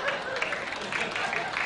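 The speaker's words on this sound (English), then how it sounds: "Smattering of applause." A television studio audience on a late-night talk show gives a brief, thin smattering of applause, steady and moderately distant, with no voices over it.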